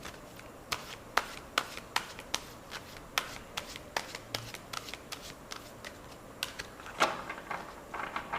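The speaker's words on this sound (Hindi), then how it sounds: "Actually this cards are little heavy, तो थोड़ा सा टाइम लगता है शफल शफल करने में।" A heavy tarot card deck being shuffled by hand, a steady series of sharp riffling clicks and slaps at close range with no voices.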